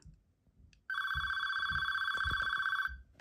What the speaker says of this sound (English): So now we only have the cordless handset ringing.